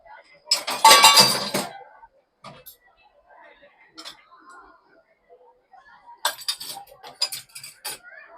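Dishes and spoons clink and rattle as they are placed into the baskets of a Bosch dishwasher, with a dense clatter near the start, scattered small taps, and another burst of clinking toward the end.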